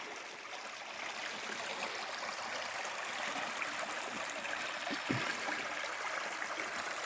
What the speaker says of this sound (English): we've been following this little brook here for a little ways